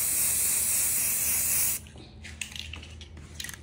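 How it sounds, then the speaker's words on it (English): Aerosol spray paint hissing onto a can for a graduation money bouquet craft, a loud continuous spray lasting under two seconds, then faint rustling and handling sounds. "I'm just gonna spray paint my can."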